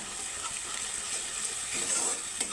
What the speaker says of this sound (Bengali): তো সবগুলো মশলা আমি একসাথে কষিয়ে নিচ্ছি।